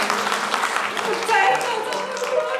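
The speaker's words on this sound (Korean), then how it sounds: "박수 한번 부탁드리겠습니다." Wedding guests applaud in a hotel banquet hall, a steady wash of clapping that carries on under a speaker's voice and the room's hubbub.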